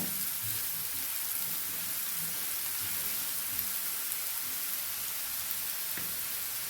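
Chopped onion sautéing in hot oil while being stirred, a steady close sizzle and crackle running evenly throughout with small scraping touches.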